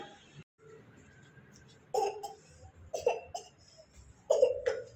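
A small child coughs in several short bursts, each a rough, close cough with brief quiet gaps between them, alone without talk.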